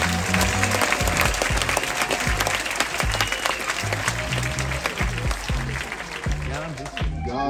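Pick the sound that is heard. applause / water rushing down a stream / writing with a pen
applause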